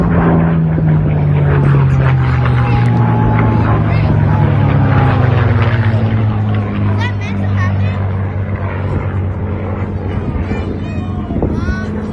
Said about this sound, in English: two vintage World War II aircraft collide mid-air during a formation pass